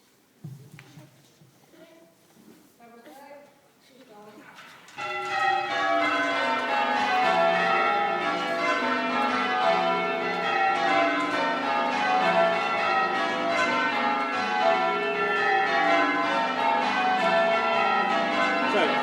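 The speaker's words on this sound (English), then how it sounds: "Hear the bells running down the scale." A voice speaks quietly before a peal of church bells at St Peter Mancroft Church, Norwich, begins, ringing in a steady repeating cascade down the scale, loud and continuous.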